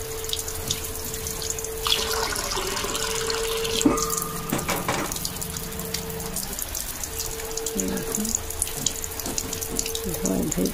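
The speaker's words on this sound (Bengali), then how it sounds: "দেখো, ধোয়াধুয়ি করছি" Chickpeas, mung beans and almonds being rinsed under a running kitchen tap, with a steady stream of water, splashing and occasional clinks of a bowl in a sink, close and continuous.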